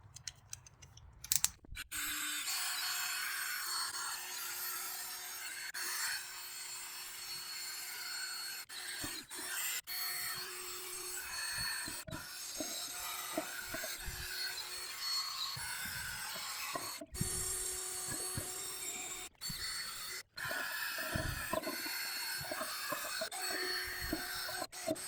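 A coarse Scotch-pad-type abrasive attachment rubbing and scouring an aluminum truck wheel, a continuous gritty rasping hum broken by short pauses and small knocks throughout.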